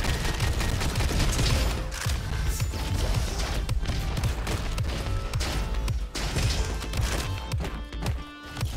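A gun fires rapidly and loudly in the robot shooter game Robo Quest, a dense sustained barrage of shots with crashing impacts throughout.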